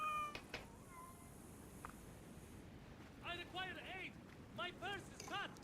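A large cat in Assassin's Creed Mirage meows several times in quick bursts, fairly close but quiet, following some softer game sounds.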